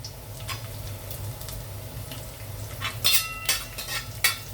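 Dried red chillies, cut small, fry in a pan while being stirred, giving a steady soft sizzle with a few sharper clinks and scrapes toward the end.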